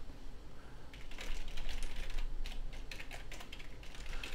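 Rapid computer keyboard typing as an administrator enters a password, a steady run of close, crisp key clicks with no talk.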